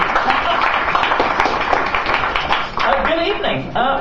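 A comedy-show audience gives a dense burst of applause as a comedian is introduced. The clapping is loud and steady, and a voice briefly cuts in near the end.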